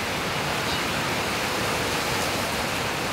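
Steady rain pours down in a dense, even hiss that fills the whole stretch without a break or any voices.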